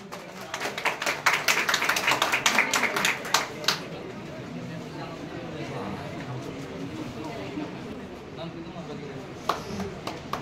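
Audience applause at a student felicitation ceremony for Madhyamik and Higher Secondary achievers, a burst of dense clapping over the first four seconds that thins into scattered claps and room murmur with voices talking.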